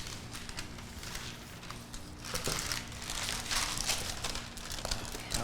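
Wax paper crinkles and rustles as two blocks are wrapped, a soft, close, irregular crackling that grows busier in the second half.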